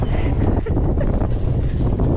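Strong gusts of wind buffet the microphone outdoors, giving a loud, continuous rushing roar with uneven surges, and a voice briefly speaks underneath.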